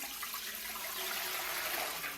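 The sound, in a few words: pouring water from a jug into a pot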